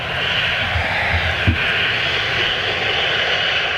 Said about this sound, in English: When he was actually turning off, he still had his reversers activated.